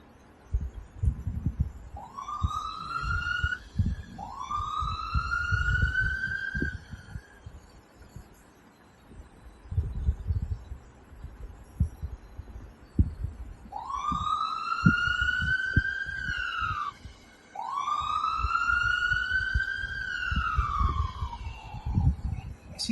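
A wailing siren rises and falls in two bursts separated by a pause, loud and close, over a low rumbling background.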